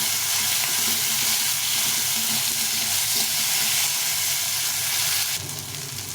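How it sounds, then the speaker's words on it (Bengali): Steady, loud sizzling of onion and tomato frying in a pan, a continuous crackling hiss with occasional stirring scrapes, no voices. "এই পেঁয়াজটা টমেটোটা একটু ভাজা ভাজা হয়ে গেছে"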